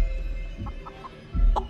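A chicken in the video game Chicken Feet gives a few short clucks, scattered soft calls over a low background hum, ending in a louder burst.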